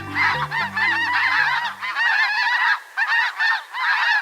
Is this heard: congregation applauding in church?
no